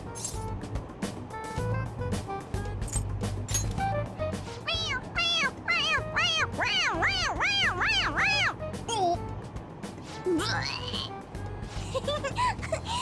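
Repeated squeaky meows from a toy cat pressed on the head in Persona 5 Royal, several quick meows in a row mid-clip with a later lone meow, all over a steady background hum.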